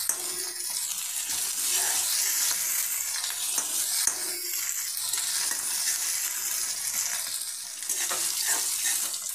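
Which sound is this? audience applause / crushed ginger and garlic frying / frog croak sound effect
crushed ginger and garlic frying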